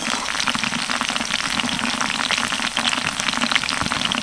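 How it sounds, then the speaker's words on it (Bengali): Chilli rolls deep-fry in hot oil with a dense, loud, continuous crackling sizzle, close and unbroken throughout. "এক মিনিট মতো এই লঙ্কার রোলগুলো ভেজেছি"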